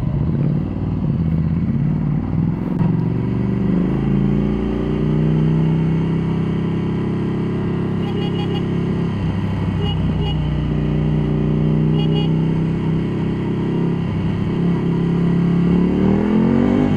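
A Ducati Scrambler Cafe Racer motorcycle engine runs loud and close on the road, its steady drone rising slightly as it accelerates, with no talking over it.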